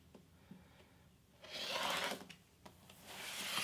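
A fabric quilt block is trimmed up, with quiet rubbing and cutting scrapes of blade on cloth, building to a louder rasping stretch midway and again at the end.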